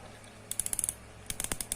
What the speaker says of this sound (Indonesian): bisa diputar ini klik-kliknya